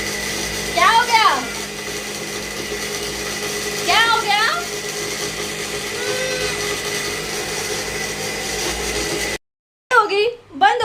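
An electric mixer grinder making chili chutney runs with a steady, loud whir, then cuts out abruptly, and a voice speaks in the sudden quiet.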